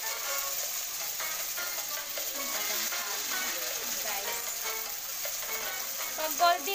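Banana maruya fritters frying in hot oil give a steady, close crackling sizzle that holds at an even level throughout, with a slightly louder burst near the end.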